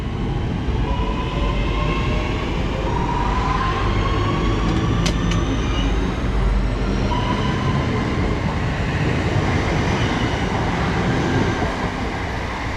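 A delayed West Midlands Railway service bound for Redditch rumbles along the Birmingham Cross City line with a loud, continuous roar, and a faint whine rises and falls over the noise.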